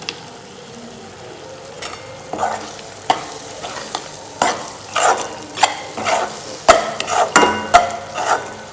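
Pav bhaji vegetables, beetroot and potato with masala, frying in a pan while a spatula scrapes and stirs in a steady rhythm, close-up sizzling under repeated metallic strokes.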